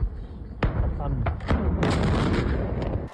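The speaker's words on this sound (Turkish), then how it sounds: "Volos bölgesindeki alevlerin Yunan Hava Kuvvetleri'ne bağlı bir üsse sıçramasıyla büyük patlamalar meydana geldi." Explosions at an air force ammunition depot reached by a wildfire near Volos, Greece: several sharp blasts and booming thuds in quick succession, loud and close, over a continuous roar of noise.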